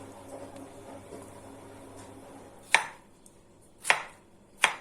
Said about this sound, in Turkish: Domateslerimi de yine küp küp şekilde doğrayacağım.